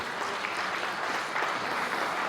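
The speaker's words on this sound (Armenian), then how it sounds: "մի հատ բարձր ծափահարություններ հենց այս թեմայով" Audience applause at a gathering, a dense, even wash of many hands clapping for a couple of seconds, steady and somewhat distant.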